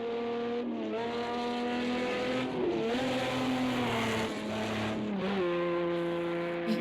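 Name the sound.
race car oversteering and sliding sideways in Project Cars 2 video game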